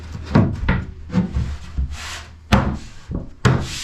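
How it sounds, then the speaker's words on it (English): A trim router works the edge of a wooden panel aboard a wooden boat, in short bursts of rough cutting and rubbing with brief pauses between passes, close and moderately loud. "A few minutes with the trim router and we should have a nice drop-in fit."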